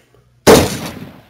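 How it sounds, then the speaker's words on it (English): One sharp, close gunshot in the video game The Visitor cracks out of near silence, followed by a short ringing tail that fades quickly. "Oh, crap. We got gunfire."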